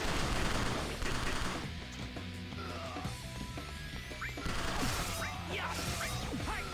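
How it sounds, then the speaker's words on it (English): Gunfire and crashing impacts in the video game Crisis Core: Final Fantasy 7, a busy jumble of rapid shots, clanks and hits, moderately quiet and continuous throughout. "Shut up with the guns!"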